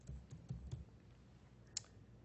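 Faint, scattered keystrokes on a computer keyboard as code is typed in a source-code editor, a few soft clicks spaced irregularly over a quiet background with one sharper tap near the end.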